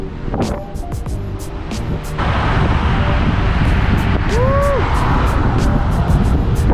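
A newly bought Jeep drives along with a steady, loud road and wind rumble that rises and holds, while people talk excitedly over it.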